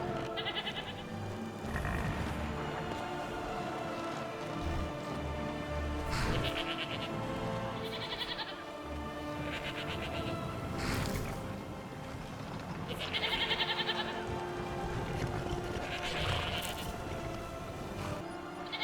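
Goats bleat in a Skyrim video game, repeated short calls over a steady ambient background, several bleats spaced across the scene at moderate distance.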